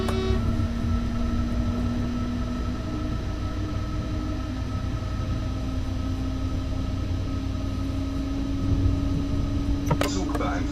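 A passenger train passes in Train Sim World 2 with a steady, loud rumble of wheels and a droning engine tone, and a sharp clatter near the end.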